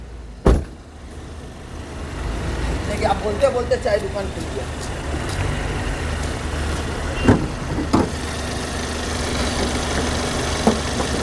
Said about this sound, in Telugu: one point five sir CRDI diesel engine ఎంత క్వాలిటీ సౌండ్ చూడండి